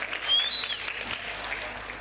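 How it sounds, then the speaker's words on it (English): Applause from the audience at the opening of a 2013 SME business expo, a short burst of clapping that swells early and then holds steady at moderate level, with a faint whistle near the start. "Give him a round, warm applause."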